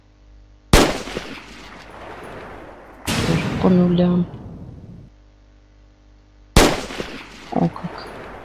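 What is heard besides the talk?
gunshots from an online bonus shooting game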